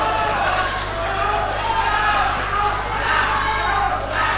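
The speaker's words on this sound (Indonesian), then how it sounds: "marilah kita berikan tepuk tangan yang meriah untuk keempat kandidat kita pada hari ini" Crowd applause at a 2015 public debate for regent and vice-regent candidates in Ketapang, West Kalimantan, a diffuse hiss of many hands over a steady electrical hum, with voices faintly audible underneath.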